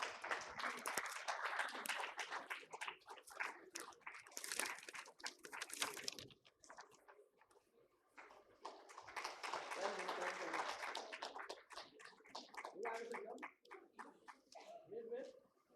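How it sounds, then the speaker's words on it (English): Audience applause at a livelihoods case study compendium release during an awards session, a dense spread of clapping that swells, dips briefly and builds again, with some talk mixed in. "A round of applause, please."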